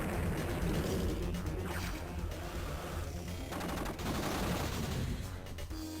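An anti-air unit firing in Advance Wars: Dual Strike, a dense, relentless burst of rapid gunfire with crunching impacts, loud and continuous throughout.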